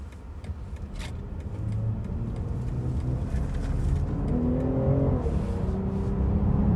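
A 2025 BMW X5 xDrive50e plug-in hybrid driving in hybrid mode, its steady interior road and drivetrain hum gradually building with a rising whir as it accelerates, no talk.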